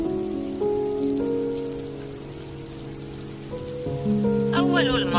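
Rain falls as a steady patter beneath sustained, slowly shifting musical tones, moderately loud throughout.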